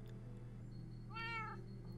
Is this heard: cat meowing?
yes